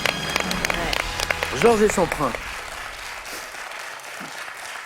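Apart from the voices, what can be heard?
game show studio audience applauding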